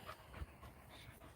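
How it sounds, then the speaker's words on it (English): A dog snorts and pants close behind, quick rough breaths repeating over a short stretch with no talking. "Stupid dog, you snorted behind me, frightened life out of me."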